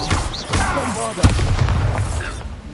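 A magic blast from the Bombarda spell in Hogwarts Legacy booms out with a sharp thump and rumbling low-end burst, heavy game effects and voices layered over it.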